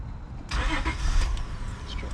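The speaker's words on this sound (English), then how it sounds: "Start the car." A 2003 Acura TL with a 3.2L engine and a cylinder 6 misfire starting up, a brief cranking burst that catches into a rough running engine, close and moderately loud.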